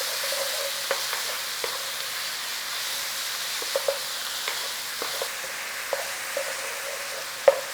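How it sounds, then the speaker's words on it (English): Softening onions are given a gentle stir in a pan for chicken risotto, with a steady close hiss of frying broken by light, sparse scrapes of the spoon. No one speaks. "Don't cook too high and give it a little stir."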